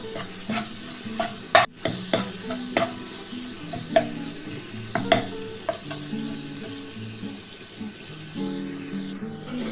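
Onions and chillies frying with garlic in a pan, a steady close sizzle broken by sharp clinks and scrapes of a stirring spoon, with no voices.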